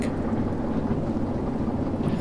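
Thunder from a nighttime storm in the train simulator Derail Valley, a sustained low rumble with wind and rain-like noise filling the background, heavy and continuous without distinct cracks.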